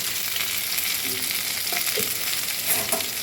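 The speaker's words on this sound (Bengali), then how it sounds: "দিয়ে এটাকে আমি ভালো করে এই ভাজা ভাজা করে রান্নাটা করবো" Ivy gourd and potato fry with a vegetarian spice mix in hot oil, giving a steady close-up sizzle broken by occasional scraping stirs, with no talk.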